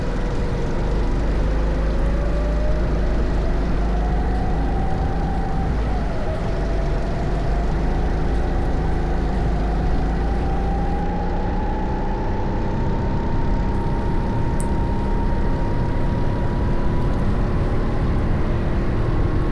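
A rental go-kart engine drones steadily and close throughout a lap on an indoor kart track, its pitch rising and falling slowly as the kart speeds up and slows through the corners, with no voices.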